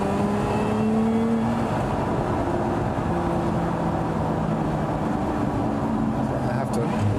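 Lotus Emira V6 engine running at high revs from inside the car, a loud, steady droning tone that holds throughout with slight pitch shifts.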